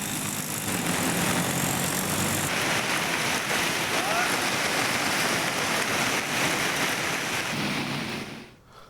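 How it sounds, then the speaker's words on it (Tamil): Heavy intermittent rain and water flowing along a road in Puducherry make a dense, constant hiss and rush, loud and steady before tailing off at the end. "புதுச்சேரியில் விட்டுவிட்டு பெய்த மழையால் சாலையில் பெருக்கெடுத்து ஓடிய தண்ணீர்."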